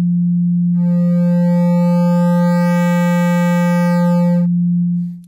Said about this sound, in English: let's have a look at also the new mode, which is called clipping. So let's listen.